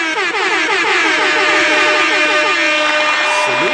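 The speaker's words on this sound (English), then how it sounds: "so let's give him an air horn" A loud, blaring air horn blasts continuously for a few seconds with a wavering, layered tone, dropping in pitch at the very end.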